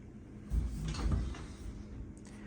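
Hotel suite drawer or cupboard sliding open with a soft wooden rumble and a couple of knocks, close by and brief, against a steady room hum.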